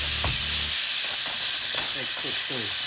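Steak sizzling on a hibachi griddle during home-style Japanese hibachi cooking: a steady close frying hiss throughout, with a few clinks and scrapes of a utensil against the hot surface partway through.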